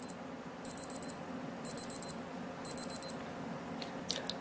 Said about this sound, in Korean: 카운트다운이 끝나면 10초간 알림음을 울려줍니다.